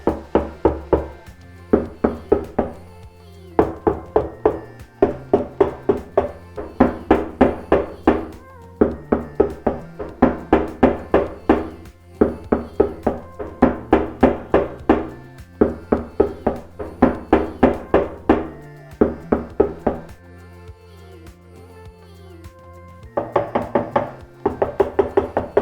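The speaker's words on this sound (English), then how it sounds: "Let's give it another knock test and see what it sounds like." Repeated knocks on a car fuel tank fitted with sound deadening, prepared for an F-body LS swap, come in quick close-up bursts of several dull, damped raps, separated by brief pauses.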